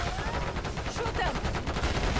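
Fast, close gunfire from Call of Duty: Black Ops 6, a dense rattle of rapid shots running through the whole short stretch with no clear pauses.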